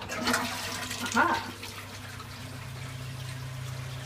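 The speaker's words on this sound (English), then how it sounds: "it basically will run a sink, and then that water is what will fill the toilet bowl" A Japanese toilet with a sink basin on its tank runs water to refill the bowl, a steady close rush and trickle after a brief louder burst, with a short spoken interjection early on.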